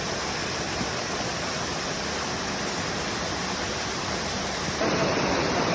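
Heavy rushing river water, a loud, continuous broadband roar close by with no break, slightly swelling near the end.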